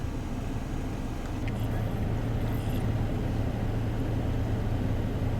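A 1999 Dodge Ram 2500 pickup truck drives around the block, giving a steady, close, continuous engine and road drone without a break.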